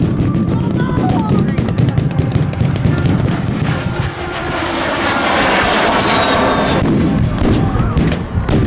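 MiG-15 jet fighter passing at an airshow, a loud continuous roar of jet engine that swells and shifts as it flies by, with heavy rumble and whooshing wind noise throughout.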